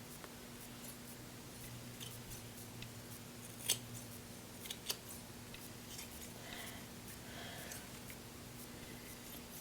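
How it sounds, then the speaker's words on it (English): Freshly sharpened barber shears snipping through toupee hair, a faint run of soft cutting sounds with a few sharper, crisp snips standing out over a quiet, humming background. "Let's just see how it cuts hair."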